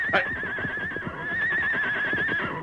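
A horse lets out a loud, shrill whinny that holds and wavers for a couple of seconds in a radio drama, with faint clopping and noise beneath.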